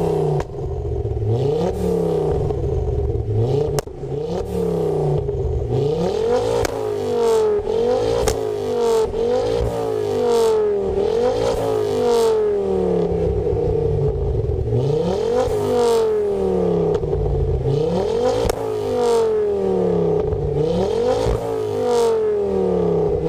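A Ford Focus RS five-cylinder engine with a Mongoose Section 59 exhaust revs repeatedly and loudly, with rising and falling sweeps, burbling crackles and a raspy drone throughout, no talking.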